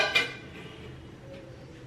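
A lid is set on a cooking pot of smoked pork and intestines with axone and a little water. It gives one short, light clink near the start and then trails into quiet.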